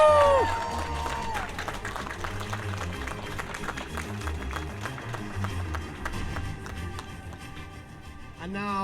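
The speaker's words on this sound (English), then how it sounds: "give your biggest and finest cheer for these magnificent horses!" A big outdoor arena crowd at a live entertainment show cheers and applauds for performing horses, a steady wash of clapping and whoops with music playing underneath.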